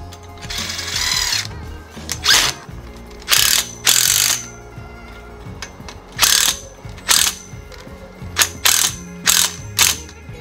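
An impact driver drives a long threaded bolt to fasten pipes on a seedling bed frame, giving a string of about eight short, loud rattling bursts separated by pauses, with no talk.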